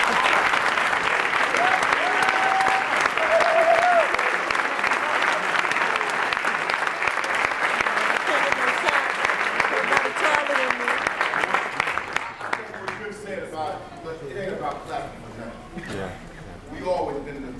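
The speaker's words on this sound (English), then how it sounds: "give a royal round of applause for my man, Chuck T." A large audience applauds and cheers for a speaker being introduced on stage, a loud sustained ovation that thins out after about twelve seconds into scattered claps and whoops, with voices calling out through it.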